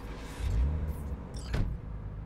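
A car being driven in Cyberpunk 2077, its engine a low rumble that swells briefly and then settles, with a short whooshing pass partway through. No one speaks.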